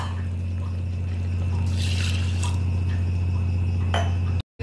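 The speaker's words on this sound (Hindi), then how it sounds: "एक गिलास चावल लिए हैं तो एक गिलास पानी डाल देंगे।" A glass of water is poured onto rice in a pot for jackfruit biryani, giving a soft trickling splash over a steady low hum, with a second brief pour near the end.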